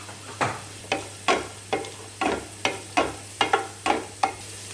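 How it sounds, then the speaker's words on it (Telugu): Chana dal and urad dal fry in a pan while a spoon stirs them, making about ten evenly spaced scraping strokes over a soft sizzle, close and alone. "శనగపప్పు, మినప్పప్పు. ఇవి ఒక 5 నిమిషాలు వేయించుకోవాలి."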